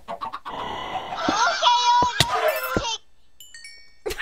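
Chickens squawk and cluck in agitated, overlapping bursts, loud and close, with sharp knocking impacts mixed in, then a short quiet stretch with faint tones before a voice returns.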